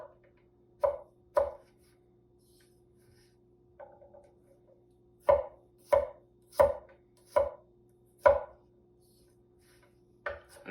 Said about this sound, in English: let's get these guys coarsely chopped up